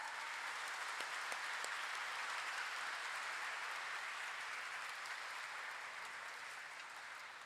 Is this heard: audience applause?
yes